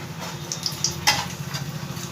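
Nigella seeds and a dried red chili crackling in hot oil for a Bengali potol posto, a close, steady sizzle with small sharp pops.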